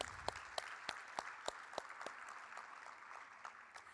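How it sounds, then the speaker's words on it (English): At an awards symposium, a crowd gives faint, distant applause with a few sharper individual claps standing out at a fairly even pace. "let's give her a round of applause and recognize her efforts"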